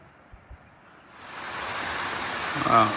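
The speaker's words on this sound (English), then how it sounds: "Here's the water I could hear cascading down." Water from a small waterfall cascading down a creek along a bush walking trail rises from near silence into a steady broadband rush, growing louder as it comes close.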